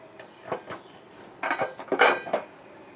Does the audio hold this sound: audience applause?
no